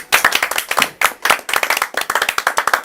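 A small group claps in quick bursts at the opening of a casual talk show recorded in the foothills of Chiaksan, Wonju, with crisp, close hand claps in three short rounds separated by brief pauses.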